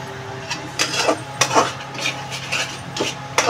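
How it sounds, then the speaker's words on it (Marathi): Spoon scraping and stirring through mushroom masala gravy in a pan, with repeated short rubbing and clinking strokes at a steady, close pace and a low hum underneath. "मध्ये मध्ये छान असं हलवत राहा."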